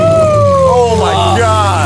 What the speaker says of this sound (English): I wanna hear V12 with a titanium exhaust.